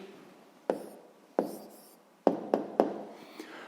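Pen strokes and taps on paper while an answer to a sixth-grade maths exercise is written down, five or six sharp separate ticks spaced irregularly over a quiet background.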